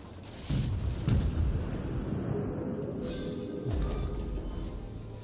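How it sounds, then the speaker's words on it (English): Naval cannon salvos of armor-piercing shells from the French cruiser Charles Martel in a warship game sound as deep booming blasts over a steady low rumble. A second heavy blast hits near the end, with no talking. "you can just launch salvo after salvo of armor-piercing shells"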